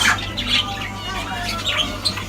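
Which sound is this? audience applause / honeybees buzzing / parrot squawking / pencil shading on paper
parrot squawking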